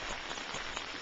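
Steady rain falls at a lake camp, a dense even hiss of drops that fills the whole moment without pause, close and continuous with no talk.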